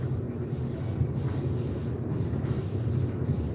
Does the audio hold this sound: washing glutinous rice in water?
no